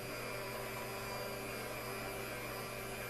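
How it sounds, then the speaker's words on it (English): An electric hand mixer whisking hot Turkish milk pudding, a steady, loud motor whine that holds an unbroken tone from start to finish with no talking. "We are going to whisk our pudding with hand mixer"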